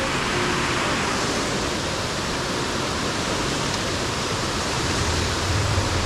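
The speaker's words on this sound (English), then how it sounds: "Oh, big waterfall." A big waterfall on the Old Ghost Road, a rocky, flooded backcountry trail, pours in a dense, steady roar of rushing water, loud and unbroken throughout with no voices.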